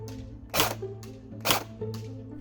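An ASG Steyr AUG A2 airsoft AEG firing 0.2 gram BBs on an 11.1 LiPo, with three distinct sharp shots spaced under a second apart over a steady motor-like hum, close and fairly loud.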